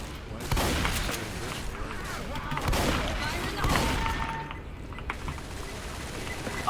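Rapid gunfire bursts from the zombie shooter game Left 4 Dead, a dense continuous barrage of shots and booms with voices talking over it throughout.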